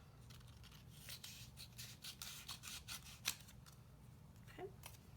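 Scissors snip away excess adhesive vinyl from a multicolored decal, a run of close, quiet cutting and rubbing strokes.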